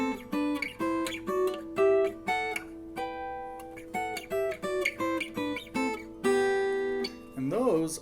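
An electric guitar plays a slow melodic line in sixths on the first and third strings, with clean paired notes plucked one after another and sustained, close and moderately quiet, ending in a slight bend.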